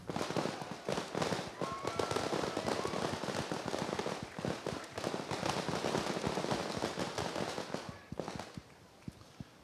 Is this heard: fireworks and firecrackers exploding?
yes